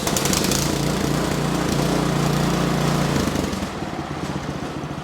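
An Ariens Deluxe 28 snow thrower engine runs loud and close with a steady, sputtering drone, easing slightly toward the end as it idles down.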